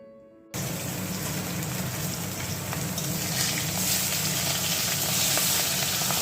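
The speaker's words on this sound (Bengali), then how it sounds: "দেখো মাছের মাথাগুলো ভেজে নিচ্ছি" Fish heads fry in hot oil with a loud, dense sizzle that bursts in abruptly after a brief quiet start and then holds steady, close and continuous, with no voices.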